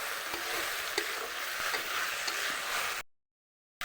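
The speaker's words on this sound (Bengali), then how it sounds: "এবার এটাকে ভালো মতো ভেজে নিতে হবে কিছুক্ষণ" Lentils fry for dal bhuna in an old blackened wok, giving a steady close sizzle with light stirring clicks for about three seconds before the sound cuts out briefly and returns.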